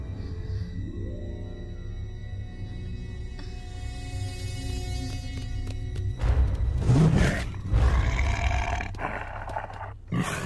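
In an animated film, a tiger lets out a deep, rough roar that swells loudly over a sustained musical score and tonal effects, then fades near the end.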